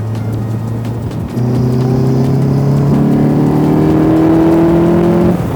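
A fast car accelerates on the Top Gear test track, its engine rising in pitch through a gear change into a loud, sustained, building rev heard from close by inside the car.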